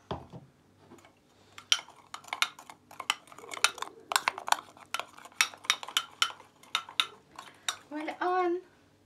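A utensil scrapes and clinks against a bowl in quick, irregular strokes while panna cotta powder is mixed, close and fairly crisp, ending with a brief muffled sound.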